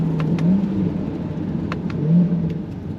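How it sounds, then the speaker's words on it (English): A 2026 Chevrolet C8 Corvette Z51 V8 drones low and steady from just behind the cabin, swelling slightly twice as it builds revs, with faint clicks over the top. "You got the sound of that V8 right behind your head."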